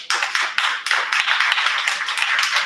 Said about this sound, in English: We can clap for the homies. Can we clap real quick?